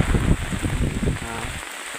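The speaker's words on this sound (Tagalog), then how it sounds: "sobrang lakas talaga ng hangin dito at ulan" Typhoon heavy rain pours steadily while gusty wind roars across the microphone, loud and continuous throughout, in Masbate, Philippines.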